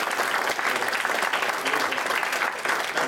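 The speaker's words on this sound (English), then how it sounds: "Let's give them a round of applause." An audience at a panel event bursts into loud, sustained applause, many hands clapping densely and close by, with a hint of crowd voices underneath.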